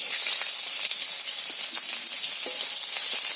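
Chopped onions hit hot oil with spices and set off a dense, loud, steady hiss of sizzling, with faint clicks of stirring.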